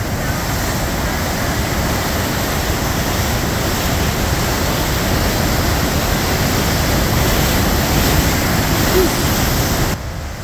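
Flooded river water rushes through the Black Hand Gorge, a loud, dense, continuous roar that stays steady and close for the full length before dropping off at the very end.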